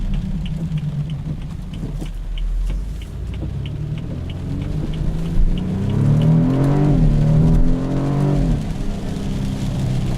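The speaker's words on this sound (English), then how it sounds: "You can hear the turbo and it sounds very 488-esque." A 2015 BMW 428i turbocharged engine pulls while driving, with a steady loud rumble that rises in pitch as it accelerates, a faint turbo whine riding over it and no talking.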